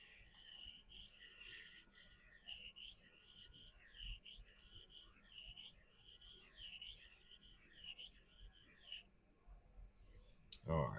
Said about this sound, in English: All right, let's do the sharpening now.